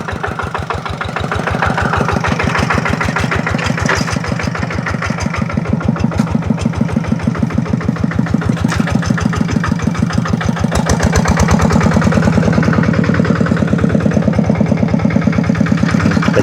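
A farm tractor engine idles close by in a rice field with a steady, rhythmic diesel chug that grows slightly louder over time, with no voices.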